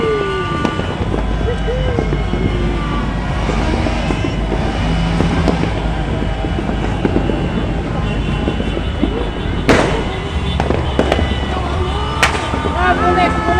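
Fireworks pop and crackle over Cotabato City amid excited crowd talk and shouting, with a few sharper bangs standing out near the end.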